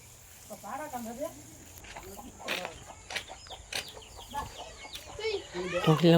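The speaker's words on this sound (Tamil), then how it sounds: "கோழிகள்" Chickens cluck and chatter in short bursts by a farm field among other birdsong and outdoor noise, with faint voices in the background.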